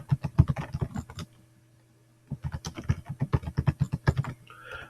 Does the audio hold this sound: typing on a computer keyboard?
yes